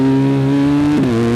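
A BMW R1250GS motorcycle engine holds a loud, steady droning note during a wheelie on the Nürburgring Nordschleife, its tone wavering briefly near the end.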